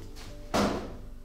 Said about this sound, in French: Ah, c'est la porte.